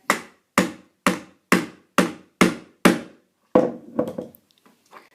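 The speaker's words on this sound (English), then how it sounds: "Pieces on top of your anvil, your tool into the hole, and then hammer it." Metal hammer strikes on a tool set over an anvil, fixing a LARP tankard strap: seven evenly spaced, sharp, ringing blows close by, then a few quicker, lighter taps that fade out.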